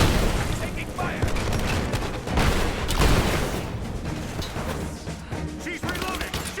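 Gunfire rattles through a Rise of the Tomb Raider firefight, dense bursts of shots and booming impacts coming thick and loud with shouted voices in the mix.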